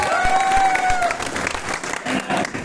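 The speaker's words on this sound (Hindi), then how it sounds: "जोरदार ताली हो जाए।" Audience at a network-marketing seminar breaks into loud applause, dense clapping with a few cheers, while a faint whistle-like tone drifts through the first second.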